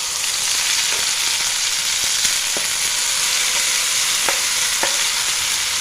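Green peas frying in mustard oil in a wok give a loud, continuous close-up sizzle with occasional stirring clicks and scrapes, and no talk.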